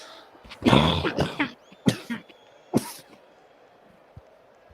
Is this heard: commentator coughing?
yes